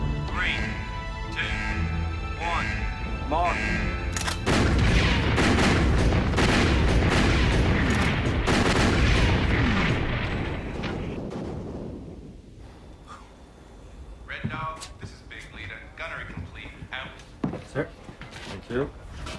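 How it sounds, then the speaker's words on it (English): Turret 1 of the battleship Iowa fires its big guns, a loud sustained roar of blasts and rumble that fades, followed by scattered thuds and clanks, with voices speaking throughout. "Turret 1, guns loaded, ready to fire."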